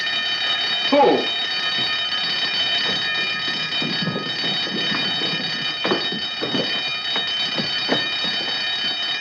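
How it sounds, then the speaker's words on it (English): A continuous high-pitched alarm bell rings steadily throughout at moderate loudness, in a 1952 espionage film scene, with brief voices, footsteps and scuffling movement beneath it. "Turn off the alarm."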